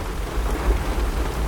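Heavy downpour with thunder: a thick, constant hiss of rain with a low rumbling undertone, loud and continuous throughout, with no voices.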